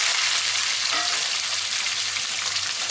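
Small onions sizzle in hot oil with popped mustard seeds and cumin, a steady close frying hiss with faint crackles and the occasional stir, no voices.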